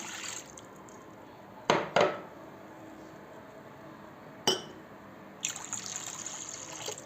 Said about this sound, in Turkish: Küçük küçük pizzalarımız için 2 su bardağı sütümü